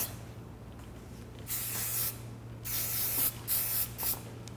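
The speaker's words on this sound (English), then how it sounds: "Spray it in place." Several short bursts of aerosol hairspray hissing close by, setting baby hairs on an updo, separated by brief pauses, over a steady low hum.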